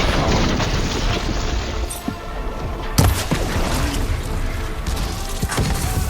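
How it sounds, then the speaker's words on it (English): Heavy impacts from a machine enemy hurling boulders in Horizon Forbidden West, with a sharp crash near the middle over a constant dense rumble of combat noise; no voices. "Throwing boulders."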